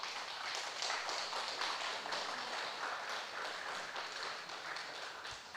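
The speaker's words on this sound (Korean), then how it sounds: "박수 한번 주세요" Audience applauding steadily at a church gathering, a dense wash of many hands clapping throughout with no clear pauses.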